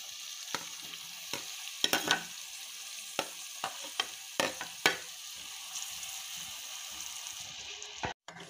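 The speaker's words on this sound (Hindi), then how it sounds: "अभी हम इसमें टमाटर ऐड करने लगे हैं।" Tomatoes are added to a spiced chicken karahi, giving a faint sizzle with scattered stirring clatters and scrapes of a spoon against the pan, close but quiet.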